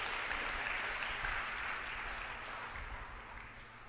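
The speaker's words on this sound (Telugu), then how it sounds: "కొట్టు చప్పట్లు ఒకసారి." A church congregation at a Telugu worship service claps together in a quiet, fairly distant wash that slowly fades toward the end, with no voices heard over it.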